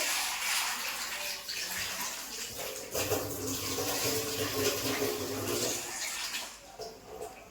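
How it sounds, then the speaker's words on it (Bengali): Dried peas are washed under running tap water in a kitchen, a steady close rush of water with splashing and shifting as they are rinsed, no one speaking. "মটর নিলাম তো মটরটা ধুয়ে ভিজিয়ে রাখি"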